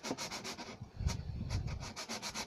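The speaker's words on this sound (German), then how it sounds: "Und als nächstes nimmt man hier das graue Schleifpapier und poliert damit" Grey sandpaper rubbed over soapstone in a quick run of short, evenly spaced scraping strokes, which pause briefly and then pick up again, close and fairly faint, with no voices.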